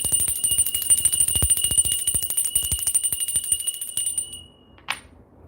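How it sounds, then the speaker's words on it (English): A bell rung repeatedly in a fast ringing burst that stops abruptly, followed by one last single strike, loud and close in a quiet room. "Let me ring the bell."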